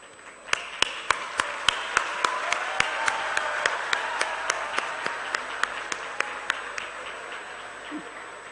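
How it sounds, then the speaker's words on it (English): Graduates at the 18th convocation on the AIUB permanent campus stand and applaud their supporters: sustained, dense crowd clapping with regular sharp clicks cutting through, fading slightly near the end. "Graduates, can I ask you to stand and applaud all of your supporters"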